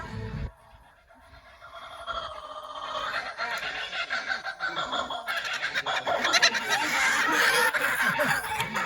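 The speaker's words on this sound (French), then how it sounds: "Alors un chant particulier, un chant très rigolo. D'ailleurs les Anglais appellent cet oiseau le martin rieur." A laughing kookaburra at La Flèche zoo gives a long, loud cackling chorus that builds steadily in intensity and density, close and unaccompanied.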